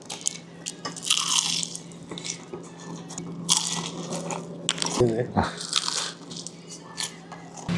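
Crisp bites into Korean market-style fried chicken, several crunchy snaps close to the mic with a chewing squish near the end, mixed with talking.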